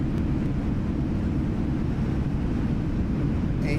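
A Boeing 777 rolls out after landing with reverse thrust in Microsoft Flight Simulator, a loud continuous low roar and rumble of engines and runway noise filling the whole stretch without talk.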